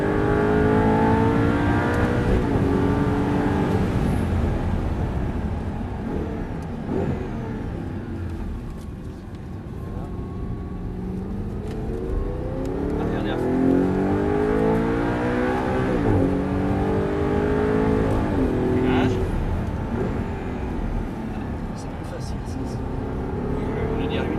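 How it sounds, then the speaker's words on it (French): An Audi R8 V8 accelerating at full throttle, heard from inside the cabin as a loud, steady engine drone that rises and swells in pitch, with someone talking over it throughout. "Allez, on accélère, on est à fond."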